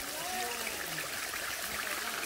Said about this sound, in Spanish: Tenemos una mini cascadita donde nace el agua.